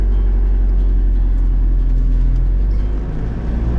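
A V8-engined Ford Transit van rumbles steadily as it pulls away, giving a loud, continuous low engine drone close by with slight changes in pitch.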